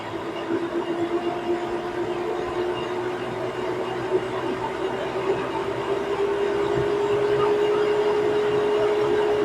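An LS MT 573 tractor engine running at a steady drone while its RPM is raised through engine speed control, the tone climbing slowly and the sound growing slightly louder, with no talk.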